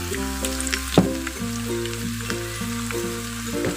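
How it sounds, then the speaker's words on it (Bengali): Chopped onion fries in oil with black pepper, cardamom and whole spices in a pan: a steady, fairly loud sizzling hiss runs throughout, with one sharper crackle and faint steady tones humming beneath. "এখন হালকা একটু ব্রাউন কালার করে ভেজে নিব।"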